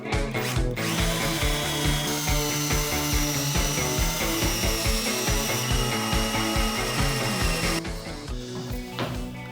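Up close, a power drill runs loud and steady as it sinks countersunk holes for screws into wood, its high-pitched motor whine continuing almost without a break before it briefly slows near the end.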